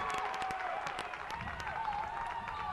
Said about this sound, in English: Crowd's getting loud.